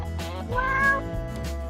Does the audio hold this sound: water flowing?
no